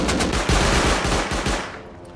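Automated sentry turrets in the survival game Rust fire rapid, dense bursts during a base raid, the close gunfire rattling almost continuously before easing off at the end.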